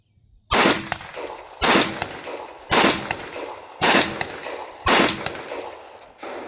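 Rock Island Armory VR80 shotgun firing five loud, close blasts at roughly one-second intervals, each shot followed by a short ringing decay, with a sixth sharp report at the very end.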